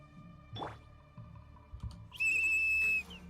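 A whistle signal in Genshin Impact sounds near the end as a loud, sustained, shrill tone lasting under a second, preceded by a few soft thuds and game effects.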